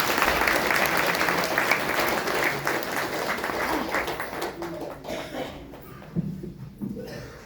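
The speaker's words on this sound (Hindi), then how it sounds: "भाई हमारी बहनें आई हैं तो तालियों से स्वागत।" Audience clapping in welcome at a Hindu religious talk, a dense round of applause that gradually tapers off, leaving scattered claps and low murmuring voices.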